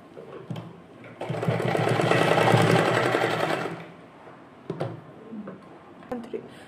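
A sewing machine stitches the bodice of a small doll dress, running steadily for about three seconds between quieter pauses with a few sharp clicks and handling knocks around it.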